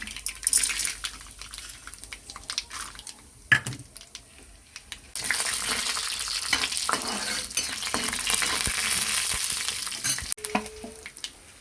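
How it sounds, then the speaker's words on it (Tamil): Mustard seeds and chana dal hit hot oil and burst into a loud, crackling sizzle that runs steadily after a few earlier clatters of a pan and spoon, with no talking. "இப்போ எண்ணெய் ஹீட் ஆகிடுச்சு கடுகு சேர்த்துக்கலாம் இப்போ வந்து கடலப்பருப்பு சேர்த்துக்கலாம்"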